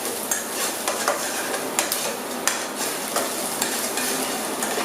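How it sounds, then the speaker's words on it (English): Ingredients sauté in a hot pan for meat sauce, a constant close sizzle broken by regular clacks of a spoon stirring against the pan, with no talking. "Gonna let those saute up."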